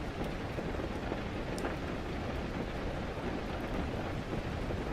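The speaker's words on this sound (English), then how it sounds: "I always feel like the thunder is going to shake the whole house apart." A storm brings a steady wash of rain with low, rumbling thunder beneath it, soft and constant throughout, with no speech.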